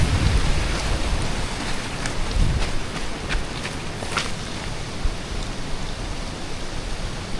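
Steady broadband rush of floodwater, loud and close, on the Kennon Road route to Baguio after two weeks of rain, with a low rumble like falling rocks underneath and no voices.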